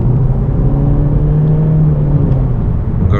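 A 2018 Honda Accord Sport front-wheel-drive sedan with the 1.5-liter turbo engine pulls hard under throttle, a steady loud low engine drone with a rising hum filling the cabin, no talk.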